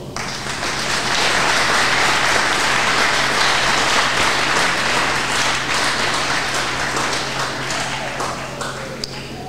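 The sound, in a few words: applause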